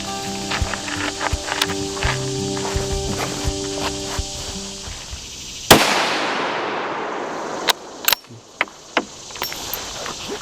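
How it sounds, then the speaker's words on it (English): A single loud rifle shot from a straight-wall cartridge gun cracks sharply mid-clip and decays in a long outdoor echo, followed by a few faint clicks and handling knocks; low background music plays before the shot. "So this is my first shot with it"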